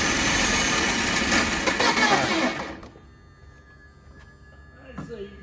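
A worn BMW E46 engine with no gas reading runs roughly for under three seconds, a loud ragged buzzing idle, then cuts out to near silence with a faint clunk near the end.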